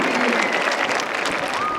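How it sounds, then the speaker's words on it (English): Crowd at a school district spirit event applauds a high school band, producing a brief, dense burst of clapping with faint voices mixed in. "Another big round of applause for Isaiah and the Killeen Roo Band."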